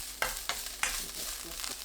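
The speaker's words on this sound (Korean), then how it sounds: "달궈지지 않은 팬에 식용유 한 큰술, 황태채 넣고 센 불로 볶습니다. 지글지글 소리 나면 중불로 바꾸고 1분 더 볶아주세요." Dried pollock strips stir-fry in cooking oil in a pan over high heat, giving a steady close sizzle with a few sharper scraping stirs, no voices.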